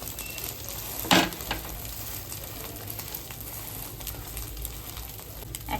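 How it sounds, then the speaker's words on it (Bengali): Chicken roll wrappers coated in egg fry in a hot pan with a steady, close sizzle and one brief louder burst of spatter near the start. "এবার ভালো করে ভেজে নেব"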